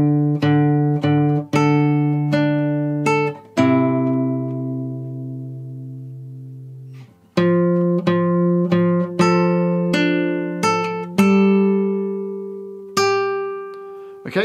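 Guitar plays the opening line of a video game main theme: a series of plucked notes, a long sustained note ringing for several seconds, then more picked notes, clear and close.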